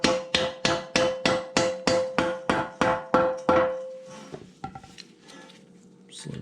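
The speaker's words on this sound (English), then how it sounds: "we'll drive that home with a dead blow hammer" About a dozen evenly spaced, solid thuds from a dead blow hammer driving an OEM bushing into a sleeve on a Maverick X3 suspension, loud and close, then a few softer knocks and handling noises.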